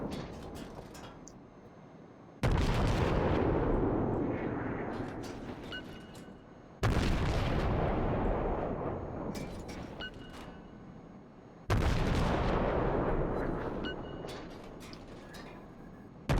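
American destroyer guns fire in the naval game World of Warships, producing three loud, booming salvos spaced about five seconds apart, each rolling away into a long decaying rumble, with no talking.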